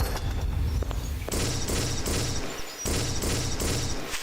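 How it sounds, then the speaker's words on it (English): A weird SMG in a first-person shooter mod of Dark Souls fires in rapid bursts. The bursts are loud and close, with short gaps between the volleys. "Okay, so it's a weird SMG"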